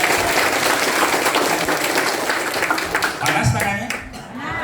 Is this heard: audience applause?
yes